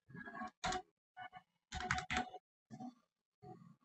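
Quiet keystrokes on a computer keyboard as an IP address is entered, several short separate bursts of clicking with brief pauses between them.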